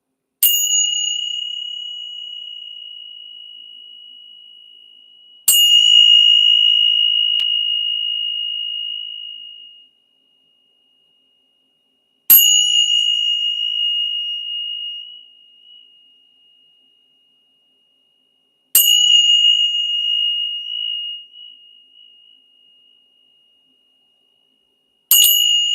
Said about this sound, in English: And then the tingshaws